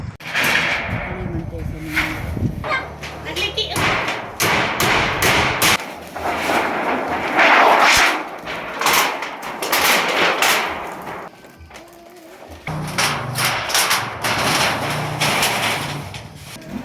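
Hammer blows driving nails into corrugated metal roofing sheets during roof construction for a tribal community's housing, repeated thuds and impacts mixed with continuous talk and background voices throughout.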